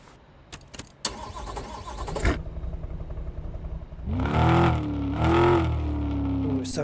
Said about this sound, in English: it sounds like it needs an exhaust